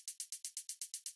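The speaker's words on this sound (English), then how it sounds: "So on the 16 note one, it just sounds like this." Electronic hi-hat in a melodic techno beat playing steady sixteenth notes, a bright, rapid, even ticking pulse, quiet and isolated with nothing else sounding.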